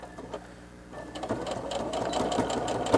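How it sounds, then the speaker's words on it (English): A sewing machine stitches a fabric face mask with a pocket and nose piece, its motor whirring steadily and growing louder after the first second, running continuously with a busy mechanical rattle. "go ahead and stitch them. Don't forget your back stitching."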